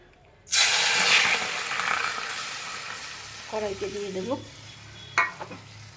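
Marinated prawns hit a hot wok with a sudden loud sizzle that settles into steady frying, followed by a few clinks and scrapes of a utensil and a brief knock near the end.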